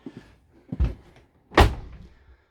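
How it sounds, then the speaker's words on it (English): A motorhome door, a Malibu i490le, being pulled shut: a soft bump followed by a heavier thud as it closes, near and distinct, with a brief rattle after. "I'm going to close the door behind me."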